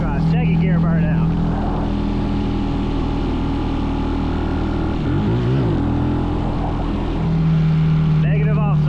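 A mini bike engine held at a loud, steady drone during a second gear burnout attempt, with its pitch shifting briefly partway through and voices speaking over it.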